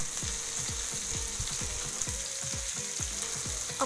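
Fish fries in hot oil with crushed garlic, a steady close sizzle full of sharp popping crackles and spits throughout, with no voices.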